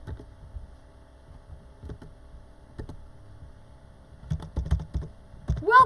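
Computer keyboard being typed on while entering text in Scratch, sparse soft clicks at first, then a faster run of keystrokes toward the end, close and without talk.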